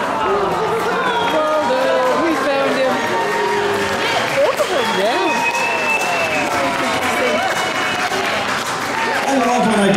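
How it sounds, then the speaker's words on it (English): An audience applauds at a steampunk convention fashion show at Old Tucson Studios, with loud sustained clapping and crowd noise and an amplified voice talking over the sound throughout. "Say a single word and you guys applaud anyway."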